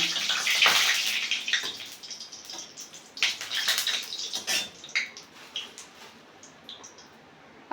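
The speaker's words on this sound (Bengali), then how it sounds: "তেলটা গরম হয়ে গেছে এখন আমি চারটে শুকনো লঙ্কা পুরনে দিয়ে দিলাম" Four dried red chillies hit hot mustard oil, making a bright, crackling sizzle that starts loud and then settles into softer spits and pops.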